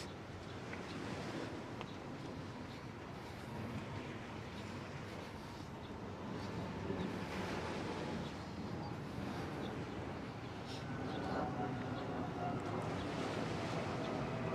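Water sloshing and lapping under a waterfront walkway along the Hoboken and Jersey City shoreline, a steady broadband wash with wind buffeting the microphone and faint distant city noise, no talk.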